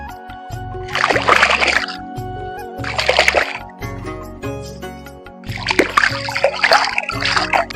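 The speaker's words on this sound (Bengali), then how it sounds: "মাছটাকে না ভালো করে ঘষে ধুইলে মাছের ভিতরে যত কড়কানি থাকে বা আঁশ থাকে ভালো মতন উঠবে না" Water splashes and sloshes in repeated bursts as freshly caught fish are scrubbed and rinsed by hand, with drips and gurgles between the strokes.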